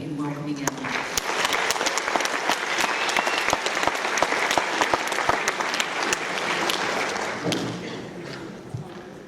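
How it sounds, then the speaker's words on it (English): An audience applauds to welcome a speaker named Alan at an elder care culture change talk, with steady, dense clapping for about nine seconds that fades toward the end, and faint voices beneath it. "Ladies and gentlemen, please join me in welcoming Alan."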